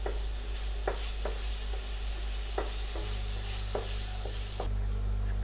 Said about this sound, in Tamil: இது ஜஸ்ட் எல்லாத்தையும் ஒரு வாட்டி நம்ம நல்லா மிக்ஸ் பண்ணி எடுத்துக்கலாம்.